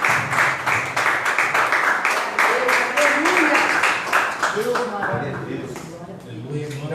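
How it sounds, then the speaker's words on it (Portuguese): A church congregation claps in a fast, steady rhythm of praise, loud and close, while a voice speaks over the clapping and it tapers slightly at the end. "E as palmas louvam ao Senhor."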